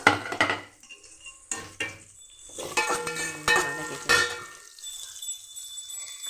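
Onion and ginger leaves temper in groundnut oil in a pan, with a light sizzle broken by stirring scrapes and clinks of a spoon against the metal, close and moderately loud.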